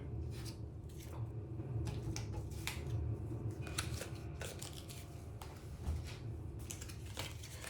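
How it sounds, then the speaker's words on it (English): A deck of game cards is shuffled, giving repeated crisp riffling and snapping bursts at an irregular rhythm over a low background hum, close and moderately loud. "adding those cards into the deck, shuffling up"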